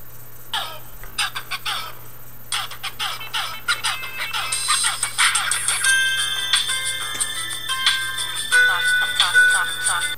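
A phone ringtone plays alone as a bright, chiming melody of plucked, bell-like notes that layers into sustained sparkling tones, steady and fairly loud over a low hum.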